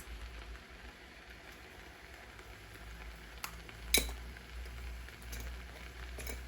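Spices are stirred into meat frying in a pan for carne guisada with green chile, giving a soft, steady sizzle with a few scraping clinks of the utensil.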